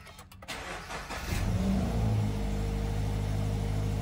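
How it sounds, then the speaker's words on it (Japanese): A Subaru BRZ 2.0 GT sports car engine cranks briefly and catches, then settles into a steady, close idle with a low rumble. "ちょっとエンジンをかけてみたいと思います"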